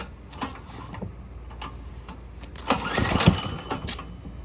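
Someone pulls the starter of a cheap Chinese diesel engine run on turkey fryer oil, giving a few faint ticks and clicks. Then comes a louder rattling pull-start whirr that fades quickly, and no speech is heard.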